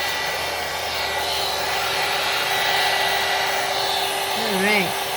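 Hair dryer blowing a steady broadband whoosh over freshly stamped ink on paper, held close and constant throughout, with a brief voiced sound near the end.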